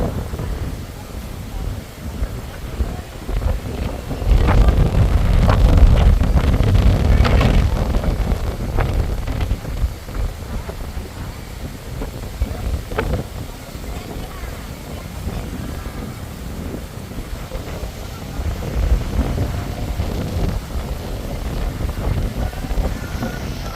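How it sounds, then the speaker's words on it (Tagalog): Strong wind roars and gusts through trees at a beach, rising and falling in loud waves, with rustling and buffeting noise on the microphone. "Ang lakas ng hangin na na yung mga puno, mga dahon ng puno"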